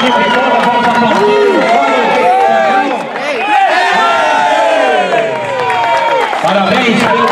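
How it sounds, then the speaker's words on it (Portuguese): A loud crowd cheers and claps continuously, with voices shouting and whooping over dense applause, at a trophy presentation after a Série B cup final. "aí o Filipinho, a equipe toda, vamos aplaudir"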